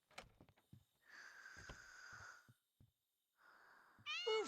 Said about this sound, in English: I guess I'm hearing the cats make noise.